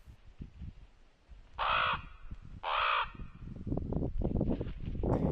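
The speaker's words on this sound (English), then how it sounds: "A lone raven stumbles upon the meat" A raven at a winter bait station on Alaska's Kenai Peninsula gives two loud, hoarse calls about a second apart, over nearby rustling and scratching sounds.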